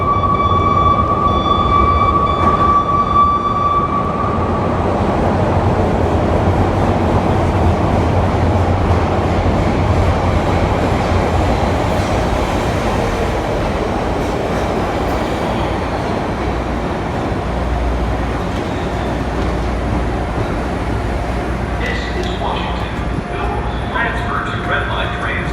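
Chicago CTA Blue Line subway car riding toward O'Hare, a steady loud low rumble of wheels and motor filling the whole stretch, with a brief high tone near the start and faint talk in the background.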